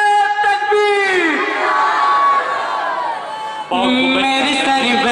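A crowd at an Indian poetry gathering shouting back in unison after a takbir call, a loud sustained chorus of many voices, then a fresh burst of chanting near the end.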